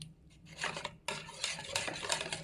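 A softened ingredient is mashed and crushed by hand, giving close, quiet rasping and scraping strokes that come in short bursts with no talking.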